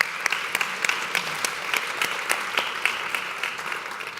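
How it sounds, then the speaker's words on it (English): Audience applause closing a conference session on the business of law, a moderate round of clapping with distinct individual claps standing out from the steady patter, fairly close and without speech. "Give you guys a round of applause."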